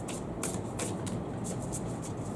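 Tarot cards shuffled by hand for a pick-a-card reading, a soft papery riffling in quick, repeated bursts at a steady rhythm, close and fairly quiet with no talk.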